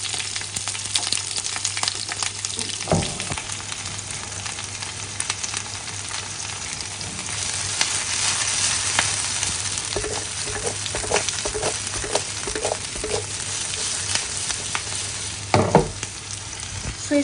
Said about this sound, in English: Here in the pan I have 2 spoons of olive oil, and now I will saute the onions.